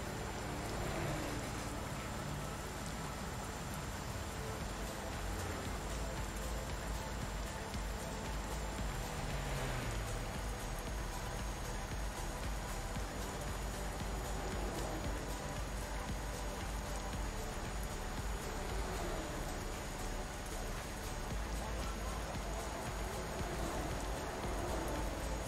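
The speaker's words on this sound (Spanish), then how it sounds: "Vamos a pillar al final lluvia" Rain falls steadily during a road trip from Bariloche toward Chile, a continuous, fairly loud wash of patter with a faint constant tone beneath it and no talking.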